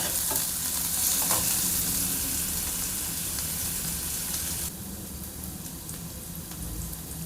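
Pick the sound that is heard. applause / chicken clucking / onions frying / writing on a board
onions frying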